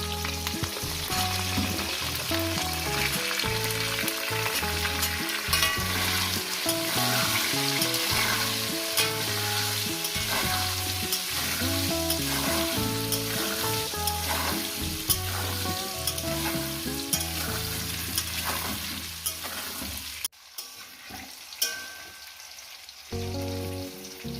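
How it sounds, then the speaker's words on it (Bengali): Potatoes frying in hot oil in a pan, a steady loud sizzle that runs continuously, then drops away abruptly near the end, with no talking. "আমি লাল লাল করে আলুগুলো ভেজে নেবো"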